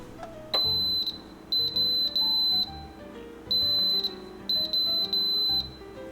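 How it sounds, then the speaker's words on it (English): Magnifique clay oven beeping, loud high-pitched electronic tones in separate bursts of one to several beeps with short gaps between them, close and alone without talk. "We have a loud beep"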